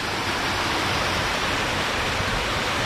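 Rushing water at Puray Falls in Rodriguez, Rizal roars as a loud, broad, steady wash of noise, constant and unbroken from start to end.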